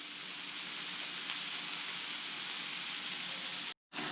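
Bacon strips crackle and hiss steadily on a hot pancake griddle, a dense, even sizzle close by that cuts out abruptly near the end.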